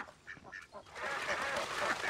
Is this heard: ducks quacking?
yes